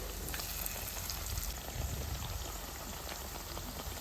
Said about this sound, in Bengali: তেলটা খুব ভালো করে গরম করে নিয়ে দিতে হবে।